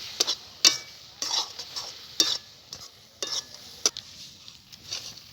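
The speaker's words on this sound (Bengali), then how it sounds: "এরকম ঘন ঘন নেড়ে চেড়ে পুরটা বানাতে হবে" A spoon stirring thick jaggery filling for patisapta in a pan, sharp irregular scraping taps against the metal about every half second over a faint sizzle.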